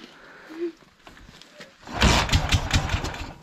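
A 1995 Dnepr MT-16 motorcycle engine starting for the first time in seven months: faint cranking and pops, then the engine catches at about two seconds and runs loud with a rough, pulsing beat.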